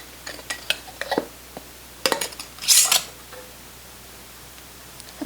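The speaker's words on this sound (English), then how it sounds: "Now we can replace the lid" Metal lid and screw ring going back onto glass mason jars of homemade limoncello, a run of close clinks and taps followed by a brief scraping twist, then quiet.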